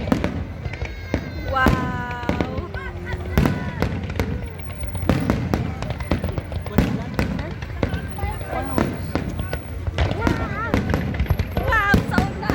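Eid 2023 fireworks over the Doha Corniche in Qatar boom and crackle in repeated bursts with occasional whistles, while nearby spectators talk and exclaim throughout.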